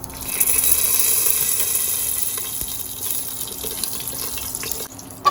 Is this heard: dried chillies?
yes